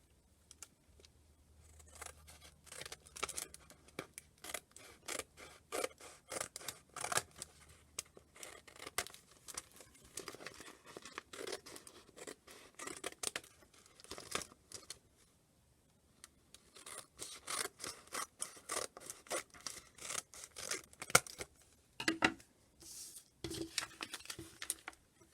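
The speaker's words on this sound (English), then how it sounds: "Now I'm going to cut it out and make it look a bit more tidy." Scissors cut out a stitched fabric envelope in a long run of rapid, quiet snips and rustles, pausing briefly partway through before continuing.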